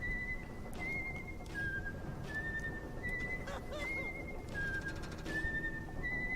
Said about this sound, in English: That guy's already whistling.